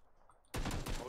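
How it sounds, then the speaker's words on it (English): Gunfire in the PUBG video game: after a quiet half second, a loud burst of rapid shots breaks out and keeps going as a close, sharp volley. "I'm getting shot at."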